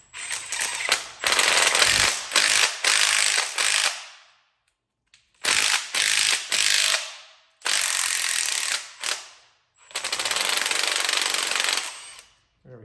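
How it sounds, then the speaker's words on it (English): A thread tap worked in and out of a bolt hole to clean crud from the threads during an LQ4 LS engine valve cover job, giving loud harsh ratcheting grinding bursts in several separate runs with short pauses between them. "work the tap in and out a few times"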